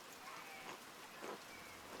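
Rain falling in the video game Pentiment: a soft, continuous, faint hiss of rainfall with a few gentle swells and no voices.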